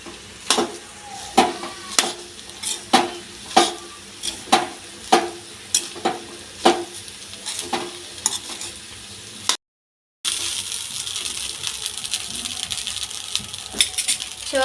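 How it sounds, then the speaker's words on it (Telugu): Chicken fried rice with green chilli sauce and chilli powder stirred in a pan, a steady run of sharp spatula scrapes and clinks over a soft sizzle, then a brief gap and a denser, continuous frying hiss without voices. "మసాలాలన్నీ రైస్కి పట్టేటట్టు కలుపుకుందాం."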